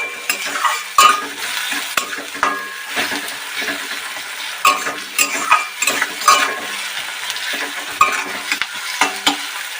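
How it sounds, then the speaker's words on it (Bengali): Tomato and onion, salted, fry in a pan for egg bhurji while being stirred: steady close sizzling broken by repeated scraping strokes and light clinks of the spoon against the pan, with no talking. "টমেটো আর পেঁয়াজটা একটু সফট করে দেবো কিছুক্ষণ।"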